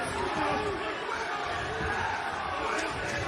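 A big crowd fills a wrestling arena during a Cody Rhodes versus QT Marshall match, a steady, dense roar of chatter and cheering throughout, with commentary voices mixed in.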